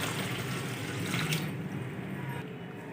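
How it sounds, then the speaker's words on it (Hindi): One litre of water pours steadily into a cooking pot of rice and grated carrots, a continuous close splashing and gurgling that tapers off toward the end. "एक लीटर पानी ऐड करेंगे।"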